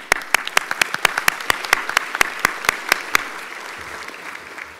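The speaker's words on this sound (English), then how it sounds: "I just want to applaud everybody" Applause at a congressional art competition morning reception, with distinct sharp claps ringing out in a quick irregular rhythm over a softer bed of clapping, close and fairly loud, thinning toward the end.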